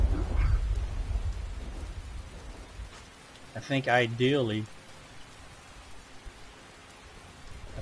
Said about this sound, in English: This rain is just not good.